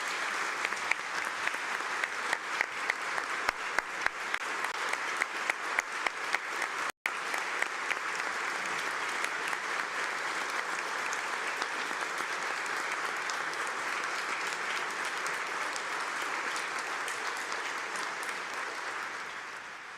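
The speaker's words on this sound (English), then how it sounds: "Please give them a round of applause." Sustained audience applause fills a state legislative chamber during a governor's State of the State Address, dense continuous clapping from a large crowd, steady and loud for the whole stretch with a brief dropout partway through.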